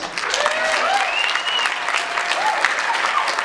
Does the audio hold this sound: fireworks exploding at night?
no